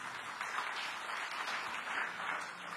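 Church congregation applauding during a sermon, a dense continuous wash of clapping heard faint and from a distance, with no speech over it.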